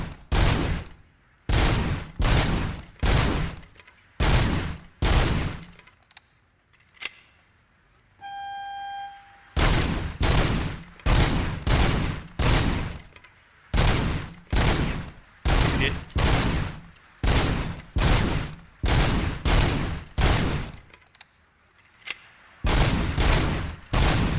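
Rapid, loud gunfire in the Robocop: Rogue City video game, heavy bursts of shots in a dense, rhythmic stream that pauses briefly once for a tonal beep before resuming, with occasional talking underneath.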